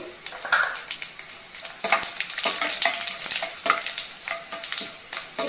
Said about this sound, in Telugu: ఇప్పుడు ఒక స్పూన్ జీలకర్ర వేయాలి